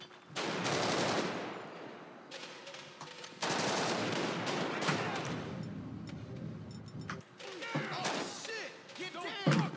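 Suppressive gunfire from UK counter-terrorism police in a GTA 5 police mod raid, loud sustained bursts of automatic fire in two long stretches with brief gaps, then scattered sharper shots near the end, with some talk underneath.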